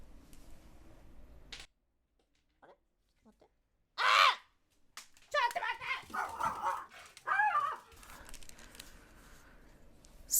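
A younger dog barks and whimpers in short bursts at close range, mixed with bouts of talking in a room, the yelps rising sharply midway and then trailing into fainter whines.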